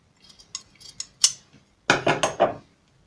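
Scissors snip through blouse fabric during tailoring, a few light clicks and short cuts followed by a burst of four quick, crisp snips close by, with no talking.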